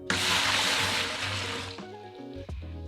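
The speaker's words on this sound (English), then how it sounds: "First, I'm just going to pour a little bit in here." Brine is poured into a food-safe bag for a smoked bone-in turkey breast, a steady close-up splash and gurgle of liquid that thins and trickles to a stop near the end.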